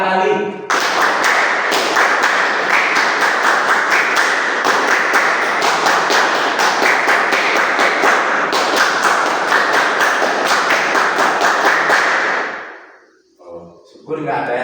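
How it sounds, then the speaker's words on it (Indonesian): Indonesian scouts do the tepuk pramuka rhythmic clap three times, a long run of loud synchronized group clapping with a steady accented pattern that ends abruptly, then a short gap and a voice. "Tepuk pramuka 3 kali."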